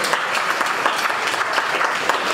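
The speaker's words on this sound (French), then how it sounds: "Des applaudissements pour Daniel, s'il vous plaît." A crowd at a free training event applauds a coach with dense, continuous clapping, loud and even from start to finish.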